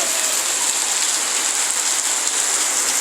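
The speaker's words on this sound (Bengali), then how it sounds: "এই দেখো বাইরে কি পরিমাণ বৃষ্টি হচ্ছে" Heavy rain pouring down outside a home, a steady dense hiss that fills the whole stretch, loud and continuous with no other sounds on top.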